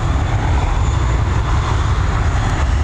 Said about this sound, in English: This TUI operated Airbus A320. She's heading over to Tenerife.